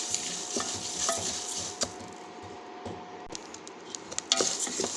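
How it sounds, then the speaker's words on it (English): Amla (gooseberry) masala ingredients fry in a pan with a steady close sizzle, broken by stirring scrapes and light utensil clinks; no one speaks. "All these ingredients have to get fried half."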